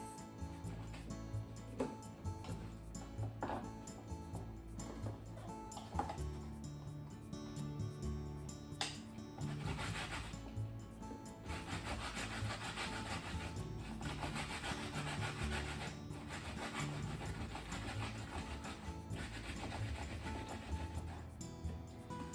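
Okra pods rubbed by hand to strip their fuzzy hairs, giving a steady, close scratchy rasping that runs continuously at moderate level with no talking.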